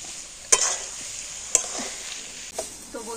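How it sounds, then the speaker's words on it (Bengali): Taro leaves frying over a low flame with a soft, faint sizzle, broken by three sharp scrapes of a spoon against the pan spaced about a second apart, close and with no talk. "একদম হালকা জাল দিয়ে না এইভাবে একটু কন্টিনিউ নাড়াচাড়া করে একটু শুকনো শুকনো করে নিতে হবে।"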